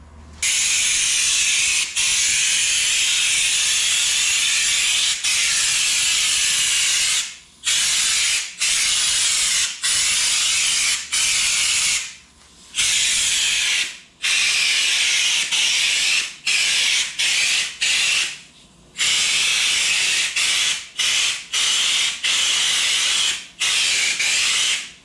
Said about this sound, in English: I'm going to go ahead and start coating this with some lizard skin